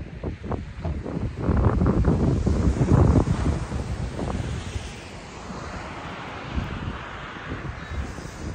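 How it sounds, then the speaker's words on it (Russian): High sea waves crash and surge under strong wind on the coast at Étretat in Normandy in January, with heavy rumbling surf and steady wind buffeting the microphone. "Очень высокие волны."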